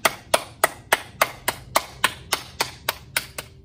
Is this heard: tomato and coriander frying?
no